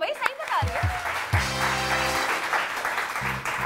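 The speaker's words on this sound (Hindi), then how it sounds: "तालियां बजा दो भाई" A studio audience on a Pakistani TV morning show applauds, a dense patter of clapping that rises partway through and stays under voices and musical tones.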